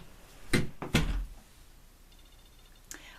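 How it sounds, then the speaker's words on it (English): A door shuts with two solid thuds close together, followed by a quieter knock a couple of seconds later. The sounds are close, with a low room hum between them. "Please make sure to shut the door tight after you"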